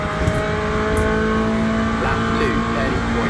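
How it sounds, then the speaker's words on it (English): A Chevrolet Corvette Z06 GT3.R race car in Le Mans Ultimate holds a loud, steady engine note at high revs, with gear-change sweeps midway. A voice talks over the engine throughout. "the Chevrolet Corvette Z06 GT3R"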